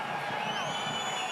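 A rugby stadium crowd at a Top 14 match between Perpignan and Toulouse sends up a sustained, distant murmur of reaction, with no single voice standing out.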